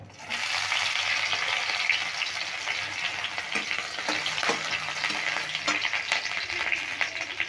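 Chopped green chillies are added to whole cumin seeds frying in hot oil, a continuous close sizzle with a few soft stirring taps, no voices.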